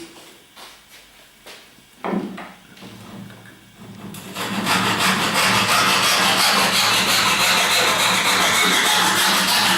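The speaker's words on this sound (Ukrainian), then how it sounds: "обрізаємо зараз деталь, використовуючи пилку з грібними зубами дуже акуратно по довжині" Rhythmic rasping strokes of a fine-toothed hand saw cutting a wooden part lengthwise, starting light and uneven, then turning into loud, fast, continuous back-and-forth sawing up close.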